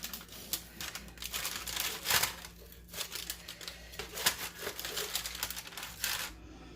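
A knife sawing into a rested, freshly baked homemade stromboli, with repeated crunchy crackling strokes through the crust, close and fairly loud, in uneven bursts.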